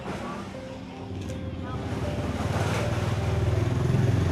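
A motorcycle engine passing, a low rumbling drone that grows steadily louder as it approaches, with wind noise over it.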